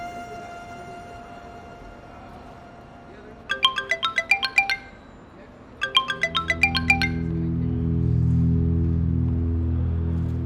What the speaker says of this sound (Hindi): कर्ज वालों का फोन होगा।